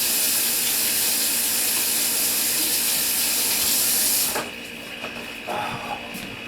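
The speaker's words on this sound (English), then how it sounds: "Let me wash my hands real quick." Tap water runs in a steady close hiss while hands are washed under it, cutting off abruptly partway through and leaving a few faint clinks and rustles.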